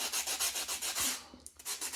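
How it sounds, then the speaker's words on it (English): Foam cockpit padding for a model Fokker Dr1 triplane being sanded by hand, a quick run of rhythmic rasping strokes, close and fairly quiet, with a brief pause before the rubbing resumes. "But this stuff sands really easily."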